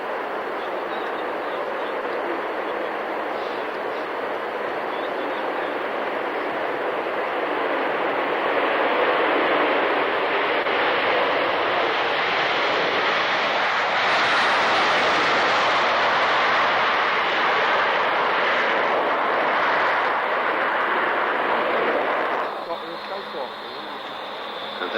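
A British Aerospace Aerospatiale Concorde roars past at an airshow in Fairford, a broad jet rumble that swells, holds loud for many seconds and then cuts away, with a commentator speaking over it.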